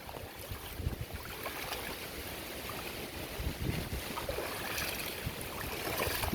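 Floodwater surges across a flooded house yard in rain and wind, a steady broad rushing wash of moving water that swells slightly toward the end, heard without any talking.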